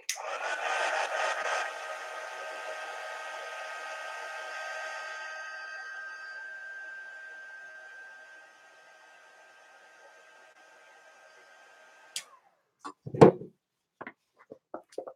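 A hair dryer blowing on watercolor paint gives a steady whooshing hum that loudest at first, fades and cuts off after about eight seconds, followed by a few light clicks and a soft knock.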